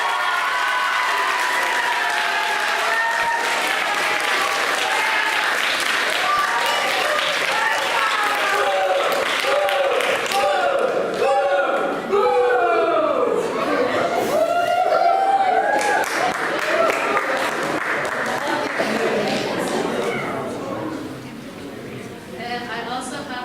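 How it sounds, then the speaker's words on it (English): A large audience at a school awards show applauds and cheers for an award winner, loud and continuous for over twenty seconds, with voices and whoops mixed in before it tapers near the end. "let's all really give a big round of applause to this year's Protege Award, which goes to Nathan Yu"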